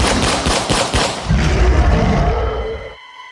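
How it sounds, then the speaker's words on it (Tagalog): Successive gunshots crack out in a rapid volley, loud and close, followed by deeper booming reports that fade into sudden silence. "biglang pumailan lang ang magkakasunod na putok ng baril"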